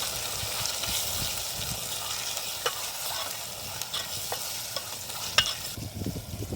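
A Kathiyawadi vegetable masala with salt and turmeric cooks in a pan for chapdi tavo, giving a continuous close sizzle with occasional clicks and scrapes of stirring and no voices.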